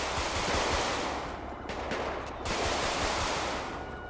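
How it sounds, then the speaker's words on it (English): Gunfire in GTA 5 crackles as a dense, noisy barrage, nearly continuous with a brief dip midway, loud and hissy without any voices. "we're getting shot at by somebody else"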